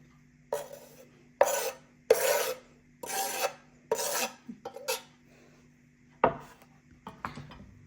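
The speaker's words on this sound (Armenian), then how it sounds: "Երեք գազարներ պետք է քերիչով անցկացնենք։" Three carrots being rubbed over a hand grater for a broccoli salad: about seven loud, close, rhythmic rasping strokes, each one short and separated by brief pauses, then a few lighter scrapes at the end.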